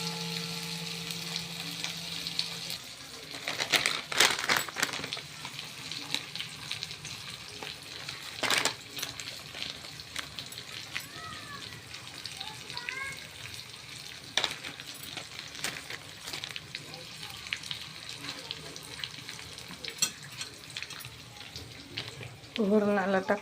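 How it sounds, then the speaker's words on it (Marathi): Spices sizzle and crackle in hot oil in a kadai while dal is being tempered, with sharp bursts of spluttering, clinks of a spoon stirring, and a steady frying hiss underneath. "वरणाला फोडणी द्यायला घेतली"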